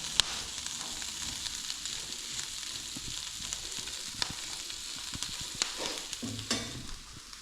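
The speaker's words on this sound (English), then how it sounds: "those greens onto the pan, give it a bit of a stir around" Greens being stirred in hot sausage fat in a frying pan give a steady sizzle with scraping stir strokes, close and continuous, and no one talks.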